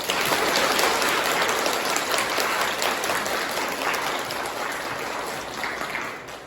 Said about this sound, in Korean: 마지막 인사 올릴 때 아주 뜨거운 박수 부탁드립니다.